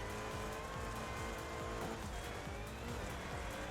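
A Ford Escort RS Cosworth rally car with a seven-speed gearbox drives hard on a rally stage at Ruokolahti, its engine roaring loud and constant from close by while the pitch rises and falls through gear changes.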